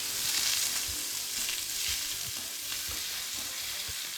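Green and red peppers sizzle with butter in a hot pan while being stirred, a steady bright frying hiss with soft periodic scraping and clinking of the stirring utensil, close and without speech.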